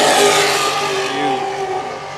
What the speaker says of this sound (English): You hear the Sterling engines of Wicked as they pass by.